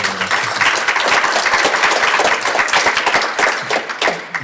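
An audience at an arts council event breaks into a round of applause, loud, dense, sustained clapping that fades slightly toward the end.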